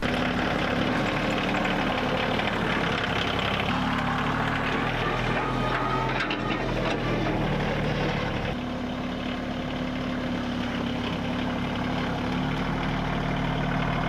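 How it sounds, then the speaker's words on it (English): A tractor engine rumbles steadily throughout, a loud continuous idle with a low droning hum and no pauses. "I'm gonna hop on the tractor and clean some stuff up"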